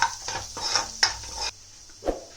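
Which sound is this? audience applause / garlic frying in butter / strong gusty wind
garlic frying in butter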